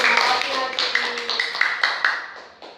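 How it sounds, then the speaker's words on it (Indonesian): Classroom applause for a student named Nadine during an Indonesian lesson: a short burst of clapping from a small group, with sharp, fairly close hand claps repeating over a few seconds. "Tepuk tangan buat Nadine"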